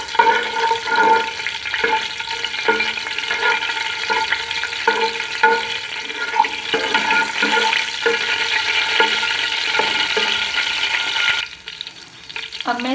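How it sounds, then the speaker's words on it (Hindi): Four cardamom pods and four cloves frying in hot ghee while being stirred for sweet jaggery rice, a steady loud sizzle with a scraping stir and soft clinks throughout. "घी जो है हमारा गर्म हो गया है। इसमें मैं ऐड कर रही हूँ 4 अदद इलायची और 4 अदद लौंग लिए हैं"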